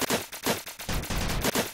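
Rapid video game gunfire from a hex-themed shooter match, a string of sharp, evenly spaced shots cracking out loud and close in quick bursts, with no voices over them.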